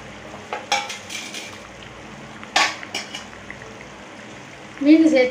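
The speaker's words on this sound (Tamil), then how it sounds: "மீன் சேர்த்து லைட்டாக அப்படியே கிளறி விட்டுக்கோங்க." Fish being stirred into a simmering curry in a pot, with scattered metal clinks of a spoon against the pot and a quiet bubbling background, ending in a louder scrape.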